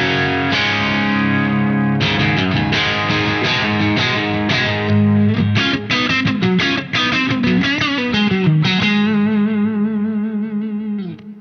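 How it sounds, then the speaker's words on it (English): Electric guitar played through a Revival Drive overdrive pedal set for a crunch tone: a sustained distorted chord, then a run of choppy strummed and picked chords, ending on a ringing held chord, loud and alone. "So you can take a sound like this drive sound I've got."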